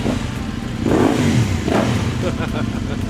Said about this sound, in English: You're never going to get away from a nice sounding exhaust.